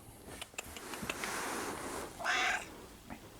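A cat meows a couple of times close by, the final meow louder and drawn out, amid soft rustling and small taps.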